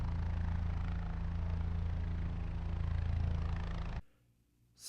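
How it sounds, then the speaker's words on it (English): An outdoor heating fan unit runs in a cold northeastern winter, with a steady low droning hum and broadband whoosh holding constant for about four seconds before cutting off abruptly into near silence. "apparently if I turn the heat on, the fan outside sounds like this."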